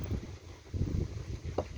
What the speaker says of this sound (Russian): Ветер вообще просто ураган.